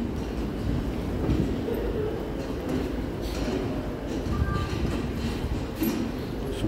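A subway train rumbles steadily in Sherbourne station on the Toronto TTC, a dense low roar with faint clatter and brief high squeals near the end.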